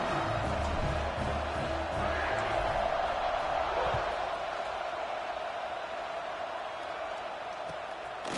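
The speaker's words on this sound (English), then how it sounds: "this crowd is buzzing after that last score" A stadium crowd buzzes steadily in an NCAA 26 college football video game between SMU and Michigan State, a dense, continuous roar of distant voices holding at an even level after a score.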